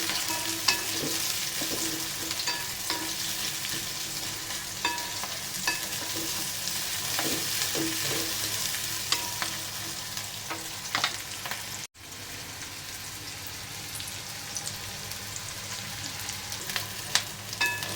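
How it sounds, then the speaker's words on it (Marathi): Chopped onions sautéing in a pan for a soybean pulao: a continuous loud sizzle and frying hiss runs throughout, broken by frequent spatula scrapes and taps, close up, with no speech. "कांदा छान असा परतून घ्यायचा इथे"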